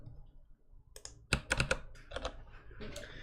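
Bursts of close, clicky keystrokes on a computer keyboard as code is typed, irregular clusters of taps after a quiet start.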